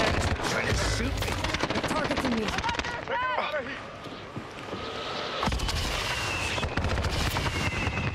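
Gunfire in the video game Warzone crackles almost continuously as dense, rapid shots and impacts, with a brief lull midway. A player talks over the shooting.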